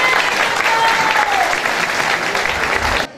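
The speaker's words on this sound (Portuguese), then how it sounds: "Você é aplaudido por todas as mamães." Applause from mothers at a daycare charity event, steady dense clapping from a crowd throughout, close and loud, cutting off at the end.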